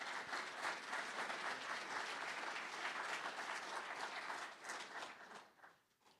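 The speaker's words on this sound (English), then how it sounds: "Let's give them a round of applause." An audience at a dairy expo booth after a virtual farm tour gives a round of applause, faint and distant, steady clapping that fades out near the end.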